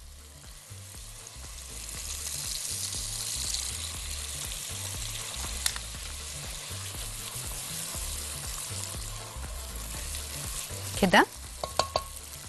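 Crushed, skinless fava beans bubble and sizzle in a pan while a spoon stirs them slowly in a rhythmic scraping pattern, with a few brief clinks near the end and a voice speaking briefly.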